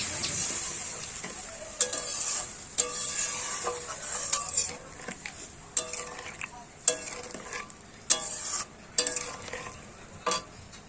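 Fish curry (pabda butter fish) being stirred in a pan, a steady low sizzle under a series of sharp spoon scrapes and knocks against the metal, no voices.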